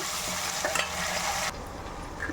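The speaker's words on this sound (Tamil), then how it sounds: "பச்சை மிளகாய் தக்காளி அது ரெண்டு போட்டுக்கோங்க இதையும் போட்டு நல்லா வதங்கிக்கோங்க" Green chillies, tomato and onion sauté in a pan with a steady, close hiss of frying that eases slightly partway through. No speech is heard.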